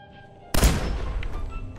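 A single sharp gunshot in the video game Fallout 4 bursts out after a quiet moment, then a rumbling, echoing tail fades slowly.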